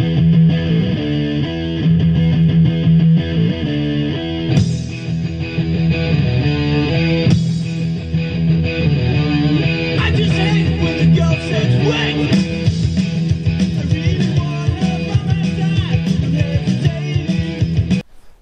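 A band plays a cover of a song from a covers compilation, with loud, driving distorted guitars, pounding drums and vocals that continue throughout.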